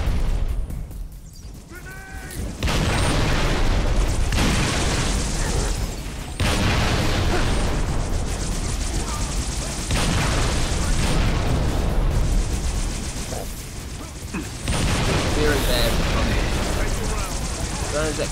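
Needler rounds exploding in Halo Reach during a winter mission, repeated bursts and booms layered with gunfire over about eighteen seconds, loud and dense, with people talking throughout.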